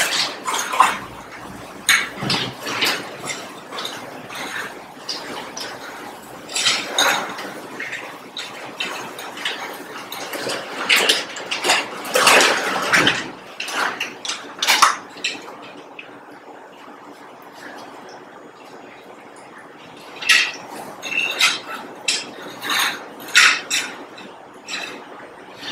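Aquarium substrate pours from a cut bag into the back of a planted tank in scattered gritty rushes and clatters, loud and close, with pauses between pours and no talk.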